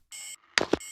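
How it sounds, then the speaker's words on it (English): Artifact sample from the Memento pack: a short electronic bleeping tone, a brief gap, then two sharp percussive hits followed by the tone returning. "And then we got another artifact from the Memento pack"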